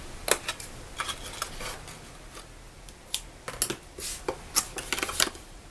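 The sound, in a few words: making a small cut in paper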